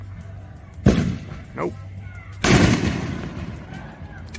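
Fireworks going off outdoors near a wedding: two sharp, booming blasts a couple of seconds apart, the second louder and followed by a long rolling echo, with a man's brief spoken reply between them.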